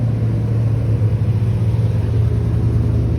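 A 400whp Nissan 370Z rumbles loud and close with a steady, throaty engine drone at an underground car meet, holding a low even tone with no voices.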